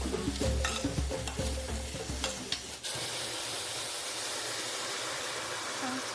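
Butter, onions and garlic frying in a pan for Namibian tripe, with busy stirring and scraping at first, then settling into a steady, even sizzle.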